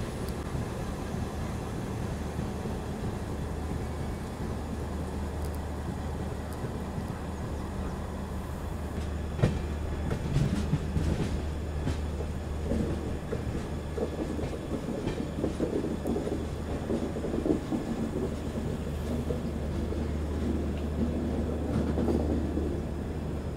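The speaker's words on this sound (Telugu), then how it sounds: "మన ట్రైన్ అయితే స్నేక్ కర్వ్స్ అయితే తీసుకుంటుందండి" The Yesvantpur–Secunderabad Garib Rath superfast express rumbles steadily on snaking curves, heard from on board with a continuous low drone and rhythmic clickety-clack of wheels over rail joints, growing busier midway.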